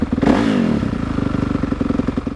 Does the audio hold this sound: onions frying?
no